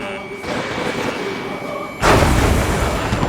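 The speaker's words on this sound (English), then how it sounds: "A railgun has been fired." A railgun firing in the combat flight game Ace Combat 7: a steady roar of engine and ambient noise is broken by a sudden heavy boom that swells and lingers loudly to the end.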